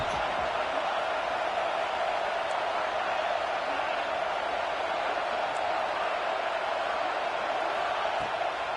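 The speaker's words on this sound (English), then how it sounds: "Third down play in the red zone, and this crowd is at fever pitch." A football stadium crowd roars during a college game between Oklahoma and Texas A&M, a steady, broad wash of distant cheering that holds unbroken throughout without clear peaks.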